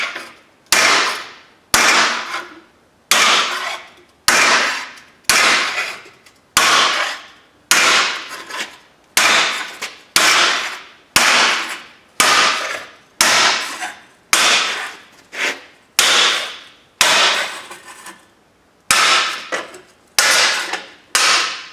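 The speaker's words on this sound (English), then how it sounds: "I'm using all the proper tools. Brick hammer, brick chisel." A brick hammer strikes a brick chisel to bend a clamped metal patch for a junkyard Cadillac, roughly twenty sharp metallic blows in steady rhythm, each ringing briefly, close and loud.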